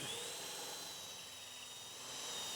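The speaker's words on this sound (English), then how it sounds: "bring it up to speed, and then just make the hole until it hits that stop." A Forstner-style multi-spur bit bores a hole in wood on a bench drill press, giving a steady, high-pitched whine that stays constant for the whole moment.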